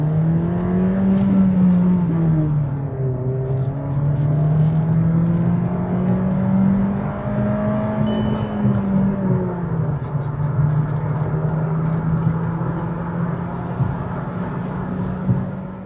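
A manual Skoda Slavia 1.5 TSI with a Stage-2 tune, downpipe and air filter pulls hard through the revs, its engine drone rising and falling steadily and loudly with no talk over it.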